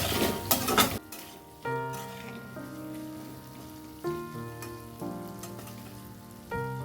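A spoon scrapes and clinks against a pan while aloo posto with green chilies gets stirred, giving several separate metallic strokes with ringing tones and no talking.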